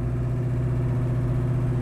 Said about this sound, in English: Our 67 Mustang drives as nice as it looks.